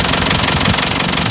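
A Land Rover Discovery 200TDi diesel engine runs close and loud, with a steady, rough, clattering knock at an even idle rhythm.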